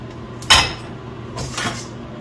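Freshly home-roasted coffee beans are poured into a cooling tray in two quick rattling bursts, the first louder and sharper, with a quiet pause between them.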